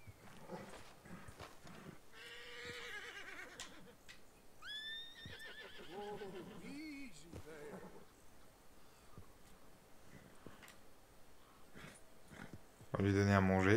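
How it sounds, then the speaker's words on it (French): A horse in the video game Red Dead Redemption 2 whinnies and snorts in a few loud calls, with someone talking over the game audio. "je vais m'occuper de mon cheval un petit peu"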